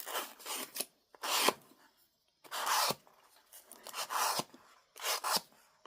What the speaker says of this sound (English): I'm sanding away from it because then it'll go right in there and get my edge good